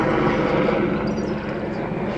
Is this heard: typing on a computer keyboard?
no